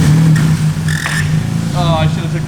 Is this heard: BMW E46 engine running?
yes